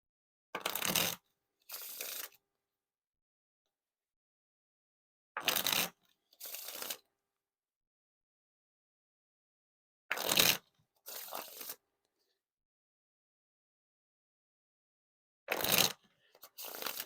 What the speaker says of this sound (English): the riffle shuffles and bridge shuffles are definitely smooth